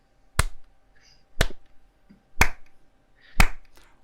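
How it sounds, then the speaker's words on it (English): Four sharp single hand claps ring out one second apart in a deliberate slow clap, each crisp and close, with quiet gaps and faint background murmur between them. "I'm going to give you a slow clap"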